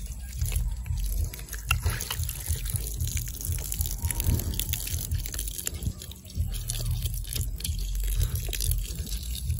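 Water spraying and splashing out of an opened PE hose pipe at a compression fitting coupling, a steady close wet hiss with dripping and trickling throughout.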